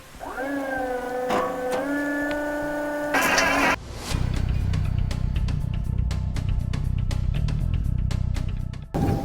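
A motorized plow starts with a rising mechanical whine. It then settles into a steady, rattling engine drone with rapid ticking while the throttle is held and it plows, close and continuous until it cuts off near the end.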